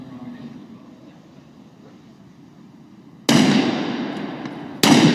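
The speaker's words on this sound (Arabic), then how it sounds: "هذه آخر طلقة، إن شاء الله يصيبها" Two sharp, loud gunshots crack out over quiet background rumble, each followed by a decaying echo.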